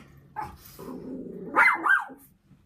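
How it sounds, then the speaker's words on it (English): A puppy lets out a couple of loud, close barks mixed with a rough growly sound at a passing helicopter, after a short quiet start. "And Murdoch barked at it."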